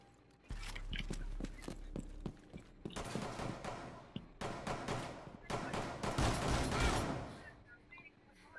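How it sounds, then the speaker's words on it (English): Rapid bursts of video game gunfire, clustered shots and volleys in uneven runs, with a low rumble under the early shots; loud and close, with short gaps between bursts. "They're shooting each other now."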